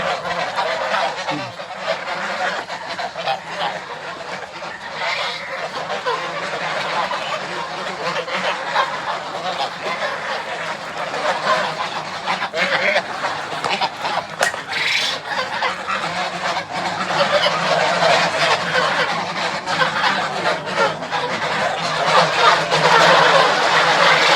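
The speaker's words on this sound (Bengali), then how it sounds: "হাঁস এখন ঘরে উঠছে, হাঁসের ঘরে" A flock of farmed geese in Kushtia honk continuously and loudly as they crowd into their shed, a dense overlapping chorus of nasal calls close by that swells toward the end.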